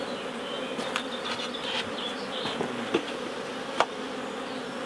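Dense, steady buzzing of a honeybee swarm in a willow tree in the UK, with a few louder individual bees zipping close by.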